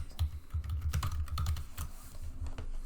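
Notes are typed on a computer keyboard as a soft, steady patter of close keystrokes, quiet and continuous for a few seconds with no talking.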